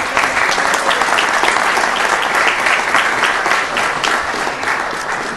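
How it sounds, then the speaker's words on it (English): Sustained, loud applause from an audience at a city council meeting, steady clapping filling the room throughout with no break. "Let's give Connie an applause."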